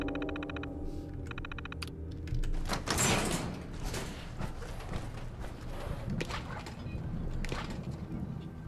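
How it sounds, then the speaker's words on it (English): A security door in Fallout 4 slides open inside a scientific laboratory, a steady electronic tone giving way to a loud mechanical whoosh and clunk, then fading rattles and a low hum. "Security door. Open the door."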